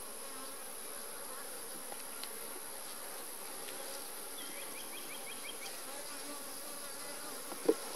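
Honey bees buzzing steadily during a beehive inspection, a faint continuous hum with a few small clicks and a brief knock near the end.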